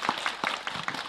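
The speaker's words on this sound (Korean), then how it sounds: "자, 우리 박수 한번 치십시다" A small audience at a Buddhist Monday service claps in scattered, quiet bursts, a handful of soft hand claps spaced unevenly over a second.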